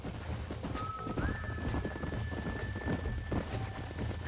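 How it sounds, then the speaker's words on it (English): Wild horses in Red Dead Redemption: a steady drumming of galloping hooves fills the clip while a long, high neigh rings out over it, loud and close, with no talking. "There's the horses!"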